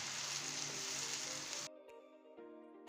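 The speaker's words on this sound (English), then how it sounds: "Then I'm going to bring in the tomato mix into it and stir fry." Tomato mix stir frying in a pan, a steady bright sizzle that cuts off abruptly partway through, leaving faint quiet clinks and a low background tone.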